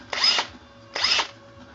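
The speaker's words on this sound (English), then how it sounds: "I made my own little lathing tool, just a dart on the end of my drill" A power drill spins a homemade valve lapping tool, a dart fixed on the drill's end, in two short whirring bursts separated by a pause, loud and close with no talk.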